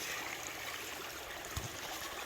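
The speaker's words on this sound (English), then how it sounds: "I'm over here next to the creek." Steady broadband rush of a creek flowing beside a campsite on the Appalachian Trail, close and continuous, with one brief soft thump partway through.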